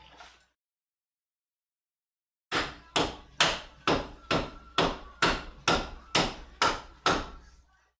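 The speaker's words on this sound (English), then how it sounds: "we also want to get a handy dandy dead blow here." A dead blow hammer strikes metal bolts during a repair, about eleven loud, close, evenly spaced thuds after a brief quiet gap, with no talking.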